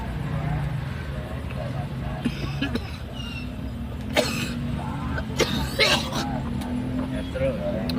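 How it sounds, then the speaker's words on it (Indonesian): Several short coughs break out among people talking and moving outdoors, with steady background noise from a street or engine underneath. "Lah, batuk gua."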